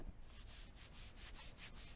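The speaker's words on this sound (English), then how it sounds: "sounds way better when you rub your hand across it" A hand rubs back and forth across the smoothed plastic rear spoiler of a Saab C900, giving soft, faint repeated swishing strokes in an even rhythm, close by with no talking.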